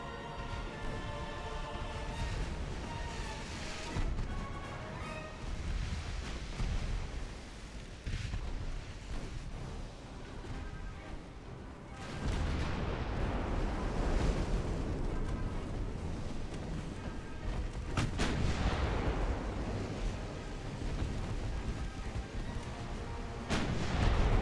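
Battleship guns firing in the naval game Ultimate Admiral: Dreadnoughts, heavy rumbling booms and repeated blasts layered over a constant roar, loud and dense throughout.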